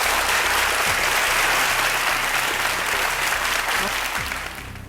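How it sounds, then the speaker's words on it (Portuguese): A television studio audience on a Brazilian interview program breaks into dense, steady applause that holds strong and then starts to fade near the end. "aplausos para os dois"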